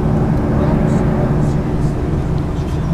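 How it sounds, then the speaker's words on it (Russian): Inside a passenger airplane cabin in flight to Tbilisi, a loud continuous engine roar and hiss persists steadily, with passengers' muffled chatter mixed in. "Вот так вот весело у нас лететь в самолете."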